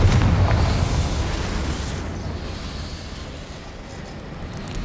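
A Confringo fire spell explodes in Hogwarts Legacy, hitting as a loud, heavy boom at the start and then fading into a long rumbling roar that dies away slowly.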